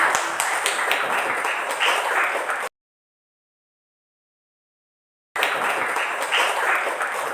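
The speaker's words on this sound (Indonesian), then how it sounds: "Kita berikan aplaus untuk kelompok." Classroom applause for a student group during a chemistry lesson, a steady patter of many hands clapping for a few seconds, breaking off into silence and then resuming just as evenly.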